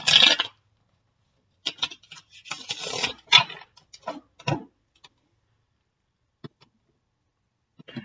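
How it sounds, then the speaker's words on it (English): Tarot cards shuffled by hand in bursts of crisp riffling and ticking patter, a dense run at the start and again mid-clip, then sparse clicks and taps with quiet gaps, close and fairly soft. "One more shuffle and then I'll cut."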